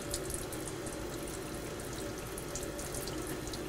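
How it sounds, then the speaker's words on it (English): Running water rinses out the inside of a stainless beer keg after an OxyClean cleaning, a steady continuous splashing rush throughout, close and fairly loud, with no talk. "you're gonna have to rinse this really,"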